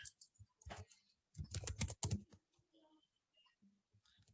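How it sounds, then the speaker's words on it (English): Fast typing on a computer keyboard as a server address is entered, with bursts of quick, soft key clicks separated by short pauses and a few scattered taps at the end. "So I am typing that server address first."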